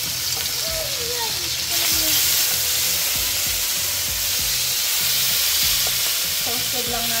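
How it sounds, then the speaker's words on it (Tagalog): Garlic toasting in garlic oil for Filipino garlic rice sizzles steadily in a pan, with stirring scrapes and a broadband frying hiss that swells midway; a person talks briefly over it. "Toasted lang natin ang bawang sa garlic oil natin."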